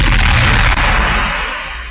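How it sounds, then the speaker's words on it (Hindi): A heavy, booming explosion roars and slowly fades away, leaving a long rumbling decay. "पुणे की जर्मन बेकरी में बम धमाका"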